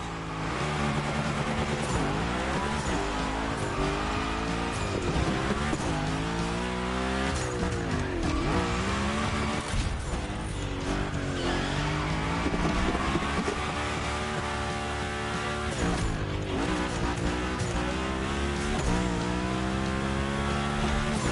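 A car in The Crew Motorfest drifts through Hawaii, engine revving hard with long, wavering tire squeals and skids sustained loudly throughout, pitch sweeping up and down as the slide continues.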